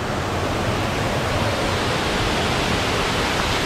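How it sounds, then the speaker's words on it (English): Steady, dense rushing of a small waterfall in a gorge at Stony Brook State Park, continuous and fairly loud with no voices over it. "Little waterfall down there, huh?"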